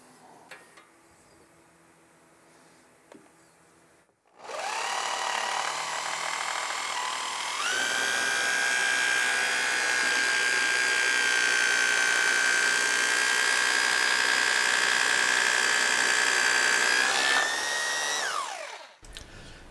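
Old hammer drill boring holes in concrete for a climate-controlled storage build: after a quiet start, a loud, steady, high-pitched whine with a hammering rattle runs for about fifteen seconds, close up, then winds down.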